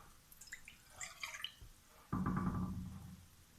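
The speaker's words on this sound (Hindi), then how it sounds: "अब हम इसमें डाल देंगे 1 कप पानी" A cup of water is poured into a karahi on the stove, a sudden close splash and gush that lasts about a second and fades, after some quiet clinks.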